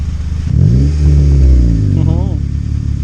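A 2013 Honda Civic Si with a Skunk2 exhaust revs up loudly and close, rising then settling into a throaty idle, with people talking nearby.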